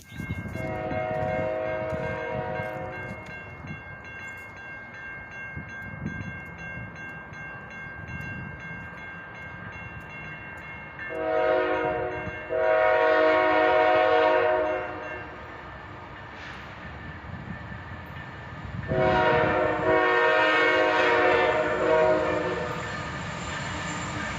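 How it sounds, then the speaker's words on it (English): A CSX freight train rolls steadily past with a continuous rumble, its horn sounding in two loud, sustained multi-tone blasts midway and near the end. "another train would come in the opposite direction here"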